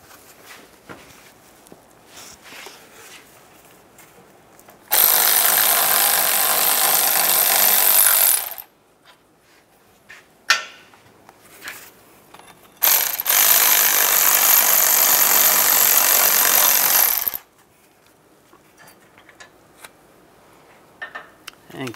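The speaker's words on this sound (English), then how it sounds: "Using a 21 millimeter socket, take these two bolts off for the bracket." An impact wrench with a 21 mm socket removes the front caliper bracket bolts on a 2007-2014 Chevrolet Silverado 2500 HD. Two loud, sustained mechanical bursts of about four seconds each are separated by quieter workshop gaps with small clanks.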